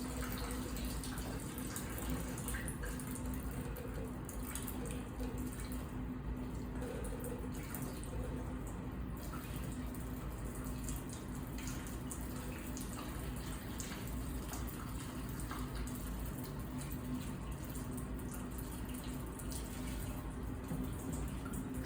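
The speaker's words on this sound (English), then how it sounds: "There's the bubbles coming out very quickly." Water flowing with bubbles on a water tension table, a steady broadband rush of running, bubbling water with a faint constant hum beneath, unbroken and even for the full stretch.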